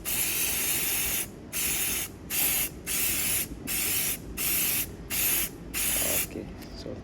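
Aerosol spray painting parts of a KTM200 motorcycle, a close hissing spray in repeated bursts of about half a second to a second, separated by short pauses.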